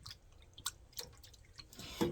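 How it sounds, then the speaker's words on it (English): Fingers rinse off in a small amount of water after color swatching yarn, with a few soft drips and splashes close by and a brief louder swish at the end. "rinse my fingers off"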